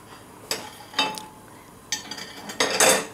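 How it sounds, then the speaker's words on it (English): A few clanks and clinks of a metal frying pan being handled while cooking feta, in short separate knocks with quiet pauses between them. "We're going to put it on our frying pan."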